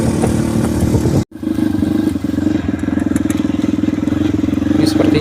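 A motorcycle rides along a dusty, freshly filled Indonesian road, its mid-pitched engine droning steadily and close with rattling clatter throughout, one brief dropout near the start.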